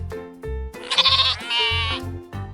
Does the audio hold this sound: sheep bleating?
yes